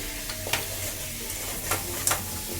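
Potato pieces and salt sizzle continuously in oil in a kadai while a spatula stirs them, adding a few brief scraping strokes over the even frying hiss.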